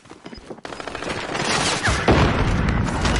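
Shotgun fire and other gunfire in the video game Warzone, a sudden loud blast followed by a dense, sustained rattle of shots and booms, close and harsh, with no talk over it.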